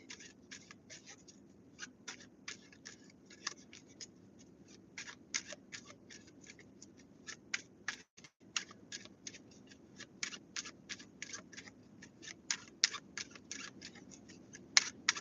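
A deck of playing cards shuffled again and again, crisp quiet snaps and riffles ticking in a steady rhythm close by over a low room hum, with no talk.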